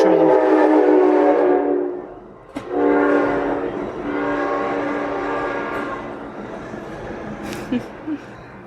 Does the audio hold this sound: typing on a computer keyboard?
no